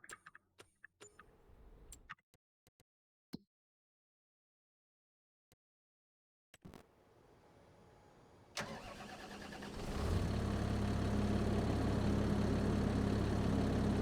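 A newly bought tractor engine in the Farming Simulator 25 game cranks over after a few scattered clicks and stretches of quiet, catches, and settles into a loud, steady low rumble that fills the rest of the clip, with nobody talking.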